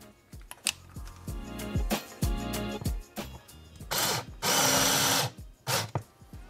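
A power drill drives a countersunk number 6 screw into a 3D printed wall mount, with repeated short whirring bursts that rise and stop, then one longer sustained run near the end, close and clear.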